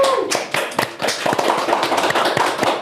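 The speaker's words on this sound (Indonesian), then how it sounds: "Tepuk tangan dulu" An audience at a talk show claps hands to welcome a guest, a brief burst of close, uneven clapping with sharp individual hand strikes, with a little speech mixed in.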